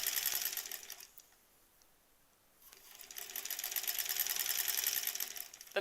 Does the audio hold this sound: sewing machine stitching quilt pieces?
yes